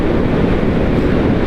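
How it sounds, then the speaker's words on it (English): Steady, roaring wind in Glencoe in the Scottish Highlands buffets the microphone during a motorcycle ride, a dense low rumble that stays loud and unbroken throughout. "It is windy and quite chilly."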